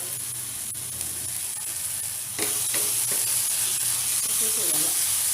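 Vegetables hit a hot frying pan with a steady, loud sizzle that swells partway through, broken by a few clinks and stirring sounds, while a person talks nearby.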